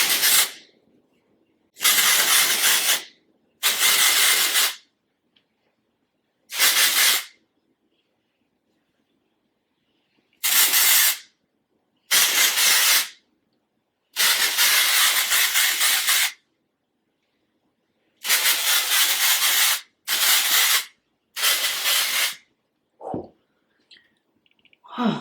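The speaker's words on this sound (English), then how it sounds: "hold the can like about 8 to 12 inches away from my hair, and then I'm going to spray it all over." Aerosol hairspray can spraying over curly hair from about a foot away, in eight or nine sharp, loud hissing bursts of one to two seconds each, separated by silent pauses.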